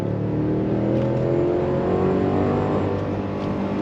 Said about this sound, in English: we're gonna roll out and we're gonna go on throttle